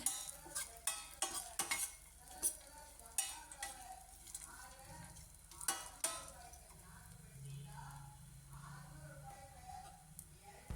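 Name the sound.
dry fruits roasting and stirring in a pan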